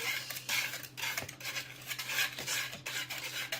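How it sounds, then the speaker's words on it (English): Whisk scraping and clinking against a bowl while mixing biscuit ingredients, a steady close rhythmic stirring with sharp metallic ticks throughout. "I'm gonna whisk here"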